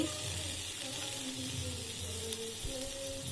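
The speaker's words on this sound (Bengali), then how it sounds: "একটু হলুদ লবণ দিয়ে ফ্রাই করে নিচ্ছি।" Pieces of pointed gourd frying in oil with turmeric and salt for dahi potol: a faint, even sizzle throughout, with a low steady hum beneath and a light click partway through.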